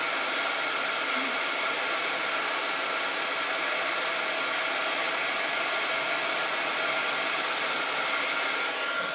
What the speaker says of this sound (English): I'm just going to heat this up until that embossing powder gets nice and glossy